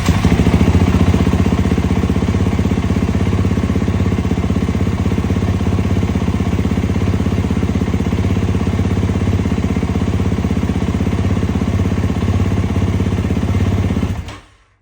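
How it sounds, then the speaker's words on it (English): A 2025 Kawasaki KX450X dirt bike engine runs loud and close at a steady, throbbing idle for about fourteen seconds before cutting off abruptly. "Go ahead and start the bike again."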